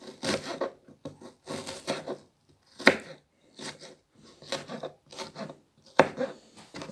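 Irregular knife strokes slicing through onion on a wooden board, coming in uneven clusters with a few sharper taps of the blade against the board.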